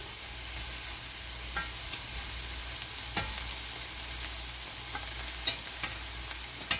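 Onions sizzle in a cast iron pan while being stirred, a constant close frying hiss broken by intermittent scraping clicks of the utensil against the iron, without any talking.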